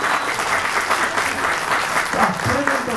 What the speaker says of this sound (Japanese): それぞれの拍手をお願いいたします